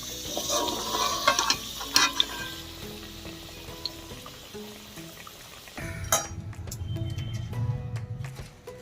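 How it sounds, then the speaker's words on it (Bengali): Bay leaves and two dried red chillies go into hot oil left from frying potatoes, giving a steady crackling sizzle with a few sharp pops and clinks, for a Bengali mutton kosha with potatoes. "এই আলু ভাজা তেলের মধ্যে আমি দিয়ে দিচ্ছি তেজপাতা আর দিয়ে দিচ্ছি 2টো শুকনো লঙ্কা।"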